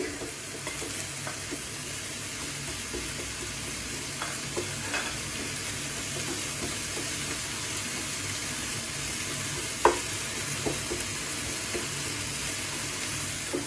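Chopped garlic sizzles steadily in hot oil, a continuous close hiss broken by scattered clicks and scrapes of stirring, with no voices.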